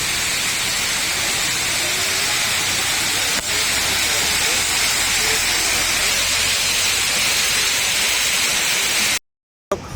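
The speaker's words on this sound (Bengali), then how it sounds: "কতটা উপর থেকে জলটা পড়ছে" Steady roar of water falling from a great height down a big mountainside at an outdoor spot in Fujairah, a dense continuous hiss that stays loud and even throughout before cutting off abruptly near the end.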